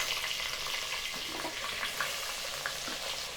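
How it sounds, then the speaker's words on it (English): Onions frying in a pan of saltfish palaver sauce, a steady dense sizzle with small pops and crackles throughout, close and fairly loud, no voices. "Now I'm putting in my onions."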